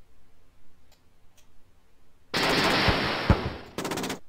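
Sudden bursts of rapid gunfire from the real-time strategy game openHV (Hard Vacuum) break in after quiet ticking, loud and dense for over a second, then stop briefly and resume.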